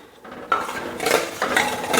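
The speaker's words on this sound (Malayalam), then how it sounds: "തിളക്കുന്നത് വരെ ഇങ്ങനെ ഇളക്കി കൊടുക്കണം കട്ടയാകാതെ അടുക്കി പിടിക്കാതെ" A milk and rice flour mixture being stirred continuously in a pot for Pesaha milk, short scraping and clinking strokes of a utensil against the pot, close and moderately loud.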